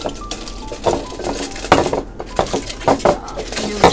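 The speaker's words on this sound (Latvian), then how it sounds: "Jā, šeit mums arī ir stikla trauki." Glass laboratory containers clink and knock together in a marine biology lab, a series of sharp, close, irregular taps and rattles with some handling noise and faint background voice.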